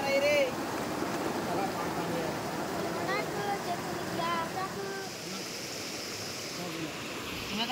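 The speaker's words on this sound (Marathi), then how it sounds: "पाणी पाणी येणार आहे रे." Stream water flows steadily in the Konkan countryside, a continuous broad rushing wash close by, with several people talking and calling over it.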